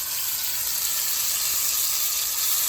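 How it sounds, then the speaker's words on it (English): Steady, dense sizzling hiss from a salted steak about an inch thick searing in a hot pan on a stovetop, loud and close, with no talking over it. "That's the sizzle."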